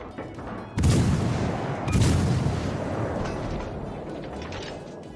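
Naval guns fire armor-piercing shells in World of Warships, heavy booms landing at about one and two seconds, followed by a long rumbling roar and faint mechanical clatter.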